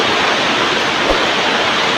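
Heavy rain pours down with water rushing in, a loud, dense, continuous roar close by with no other sounds standing out.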